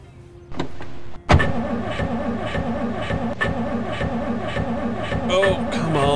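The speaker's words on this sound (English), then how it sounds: "This engine sucks. Sounds like my real car." A car engine in the Project Zomboid video game, running as a steady, loud, rough drone that cuts in abruptly and continues throughout, with talk over it.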